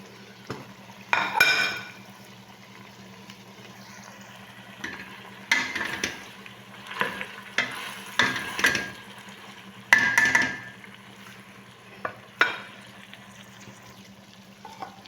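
Capsicum tossed and stirred in a pan with utensils: several separate bursts of scraping and clattering with a faint wet sizzle, close by and spaced with short pauses, and no one speaking.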